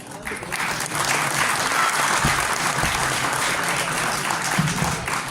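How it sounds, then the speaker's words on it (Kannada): Loud, sustained applause from an audience at a Kannada cultural festival stage event, a dense steady wash of clapping that holds at full strength for several seconds. "ಜೋರಾದ ಚಪ್ಪಾಳೆ"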